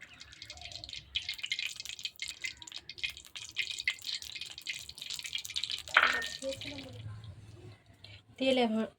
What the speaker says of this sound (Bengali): কড়া একদম গরম হয়ে গেছে। এর মধ্যে এবার আমি সাদা তেল দিয়ে দেব।